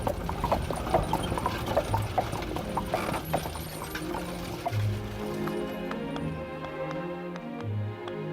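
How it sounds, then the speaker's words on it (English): Hooves of a horse pulling a streetcar clip-clop along Main Street at a park, a steady rhythmic clatter with mechanical rattling and creaks of the car, heard moderately close. "let's take the horse-drawn streetcar and ride down Main Street"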